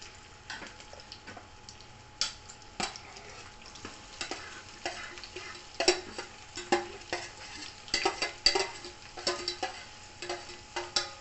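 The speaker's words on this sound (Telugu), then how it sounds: "ఎందుకన్నా జాగ్రత్తగా మెల్లిగా నూనెలో ముక్కలు వేసేసుకోవాలి" Mango pieces for a Telangana-style jaggery mango pickle drop into hot oil, giving a continuous crackling sizzle with scattered sharp pops and clicks, moderately loud and close, with no talking.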